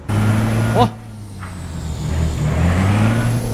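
A truck engine idles with a steady low hum heard from inside the cab, with a short hiss near the start and a faint voice in the background.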